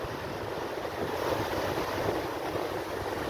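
Steady wash of sea waves on the Davao Gulf, mixed with wind, in a continuous rushing roar.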